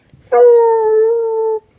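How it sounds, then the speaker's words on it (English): A dog lets out a single drawn-out howl in a welding workshop, a clear, close, tonal wail lasting over a second before cutting off, with faint shuffling around it. "You silly old dog."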